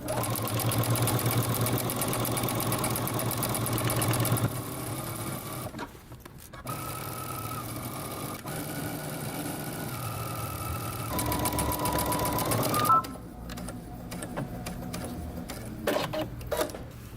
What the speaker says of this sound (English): Back stitch and sew.